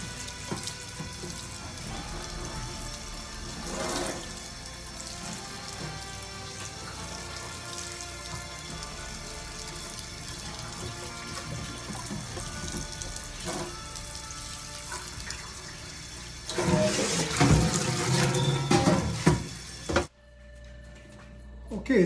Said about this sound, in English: And take it over the sink and get it rinsed.